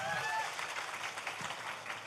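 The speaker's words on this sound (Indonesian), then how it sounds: "Tepuk tangan untuk Mbak Laila" Applause from a seated audience at a gathering in Jember, a steady wash of many hands clapping for Mbak Laila, moderately loud and continuous throughout.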